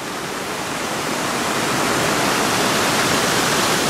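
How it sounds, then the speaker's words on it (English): River water pours over the top of a weir at a waterworks park, a loud, constant rushing roar that swells slightly and fills the whole stretch with no voices. "you can see how much is still flowing over the top"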